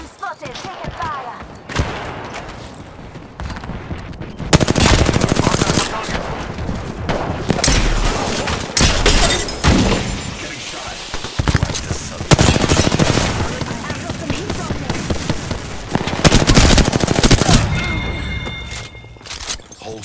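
Gunfire from the Apex Legends battle royale video game, with dense bursts of loud automatic fire, heavy impacts and booms packed across most of the stretch, and brief quieter gaps between volleys.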